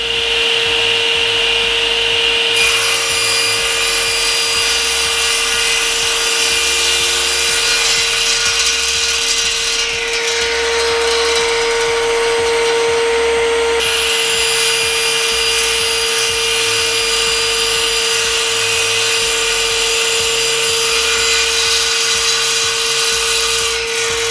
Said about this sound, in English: we don't have to now hold the wood other than guide it through the saw